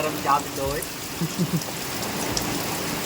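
Heavy monsoon rain in coastal Ratnagiri, Konkan, hisses steadily beyond a window, with a person speaking briefly in the foreground before the rain carries on alone.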